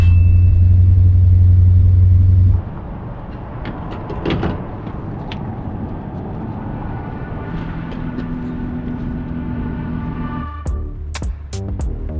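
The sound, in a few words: 1978 Dodge D300 truck driving on road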